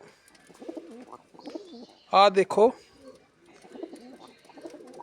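A pigeon gives a short burst of throaty cooing in the middle, between stretches of someone speaking nearby.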